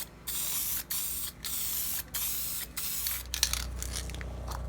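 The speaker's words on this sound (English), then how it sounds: "then I'm going to be spray painting it silver" Super chrome silver spray paint hisses from an aerosol can in several short bursts with brief pauses, then a longer, steadier spray, close and loud with no talk.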